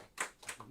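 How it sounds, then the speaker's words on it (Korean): Church congregation clapping, a few quick, close claps in short bursts under a brief moment of faint voice. "박수해 주십시오"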